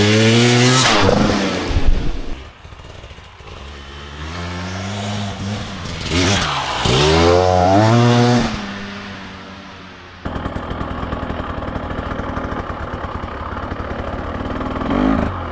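A 2025 Husqvarna TE 300 Pro dirt bike revs loud and close, its engine note rising and falling through gear changes, then settling into a steadier buzzing drone as it rides around a small loop.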